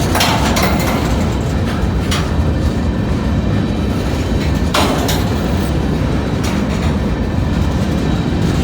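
A street-running train rolls through La Grange, Kentucky on a dreary day, a loud, close, continuous rumble of wheels with sharp intermittent clanks and squeals from passing cars.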